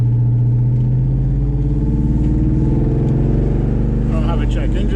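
A nitrous-injected New Edge car engine idles in a steady, loud, close mechanical drone, with a voice talking briefly near the end.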